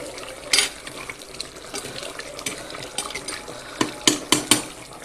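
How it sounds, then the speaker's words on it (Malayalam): Chicken teeyal curry boiling in a pot, a steady bubbling and liquid churning with occasional sharper clinks and stirring knocks, close and moderately loud, no voices. "നന്നായിട്ട് തിളക്കുന്നുണ്ട് കേട്ടോ"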